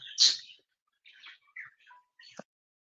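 A few sparse bird chirps and tweets, short and separated by silence, fairly faint and outdoors.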